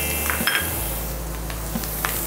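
Bean sprouts tossed into a hot frying pan send up a steady, close sizzle, with a few light clinks of a utensil against the pan as they are stirred.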